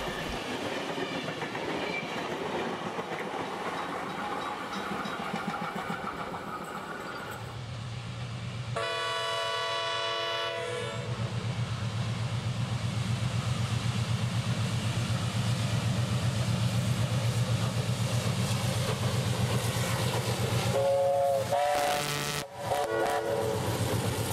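A steam train on a main line rumbles past with a deep steady roar and rhythmic wheel clatter, a loud whistle sounding briefly midway and short toots near the end.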